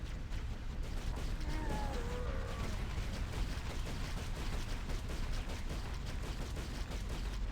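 Continuous rapid gunfire from a Halo game mod with unlimited ammo, loud and dense throughout with a steady barrage of shots and brief tonal effects early on.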